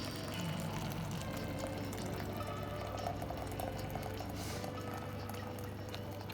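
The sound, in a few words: pouring boiling water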